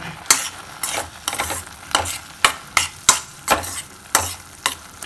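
Ginger-garlic masala stirred and fried in a pan, with about a dozen sharp spoon scrapes in a steady rhythm over a constant close sizzle, no talking.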